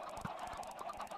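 Minecraft chickens in a hilltop egg farm give a quick, dense run of soft clucks and squawks, close and steady, with nothing else in the brief burst.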